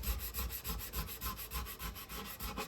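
Sandpaper rubbed back and forth over a wood relief carving of a Ford Mustang, producing close, rhythmic scratchy strokes at a steady quick pace with no voices.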